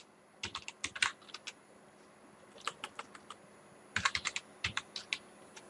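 Bursts of quick clicking keystrokes on a computer keyboard, typed in short clusters with pauses between, close and fairly quiet with no talking.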